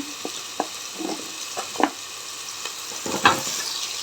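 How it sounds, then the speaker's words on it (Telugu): Radish sizzles and fries in a pan for radish dal sambar, with steady frying hiss and repeated scraping, stirring strokes of a spoon against the pan, close up with no talking. "ఇప్పుడైతే ముల్లంగి యాడ్ చేసేద్దాము"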